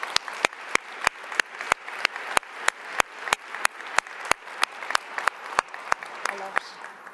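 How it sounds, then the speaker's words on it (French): Slow, evenly spaced claps for panelists at a public panel discussion on agile methods and human resources, sharp distinct hits roughly every third of a second, fairly close and moderately loud over a quiet room. "une bonne main d'applaudissements pour nos panélistes"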